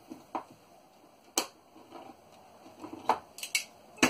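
A 26-year-old manual can opener works through a can lid in a kitchen, giving scattered sharp metallic clicks and clacks at an uneven pace, close and fairly quiet, with no talking.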